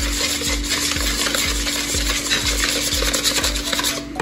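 Ghee being beaten into cake batter with steady rhythmic whisking strokes, about two per second, close and continuous, with no voices.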